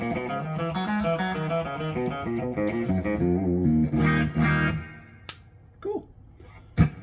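An Epiphone Alex Lifeson Les Paul Custom Axcess electric guitar on its middle pickup setting, out of phase, plays clean, slightly thin-sounding notes and chords, then stops, leaving a few faint clicks and taps.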